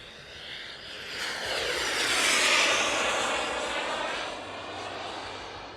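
A twin-turbine RC jet with thrust vectoring passes overhead in flight, its loud whining roar swelling to a peak mid-pass and then easing off as it moves away.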